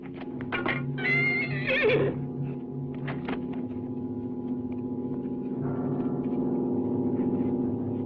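Horses in a 1960s sword-and-sandal battle scene whinny loudly, one long high neigh followed by shorter snorts and neighs, with clip-clop and a steady low rumble underneath.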